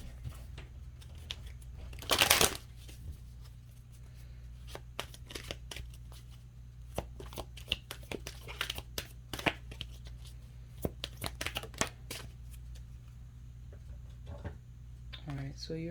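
Tarot cards being shuffled and drawn in a quiet room: a loud burst of riffle shuffling, then soft flicks, slides and taps of single cards, close and intermittent, with a low steady hum underneath.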